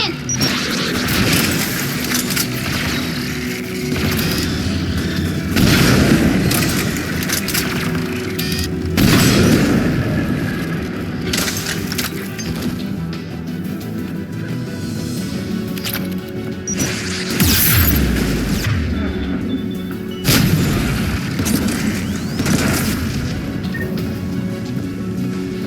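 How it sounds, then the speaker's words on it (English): Anti-aircraft guns firing in the Mass Effect 3 video game, heard as heavy recurring booms and crashes over a dense, rumbling battle din that lasts throughout, loud and continuous. "AA guns ahead of us."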